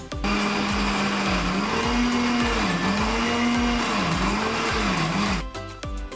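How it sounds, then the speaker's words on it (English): A blender whirs loudly and steadily as it crushes grapes for homemade wine, its motor pitch dipping and rising in repeated surges for about five seconds before spinning down. "I'm going to crush the grapes into the blender"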